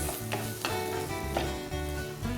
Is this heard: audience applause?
no